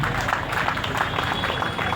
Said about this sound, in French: applaudissons pour nos amis